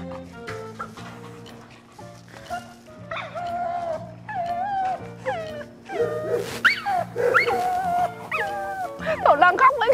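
A dog whines and cries close by in a string of high, wavering whimpers and yelps that grow more frequent and insistent toward the end, heard on its own without talk.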